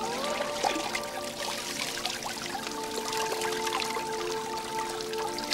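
Water from a spring by the Ščavnica river is scooped up in cupped hands, giving a continuous close splashing pour and trickle with little drips, no voices.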